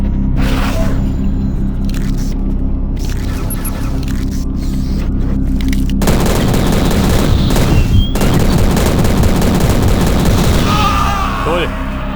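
Sniper rifle fire cracks out in the 2006 shooter Prey, repeated loud shots over a steady electrical hum, growing busier and denser partway through amid other game noise.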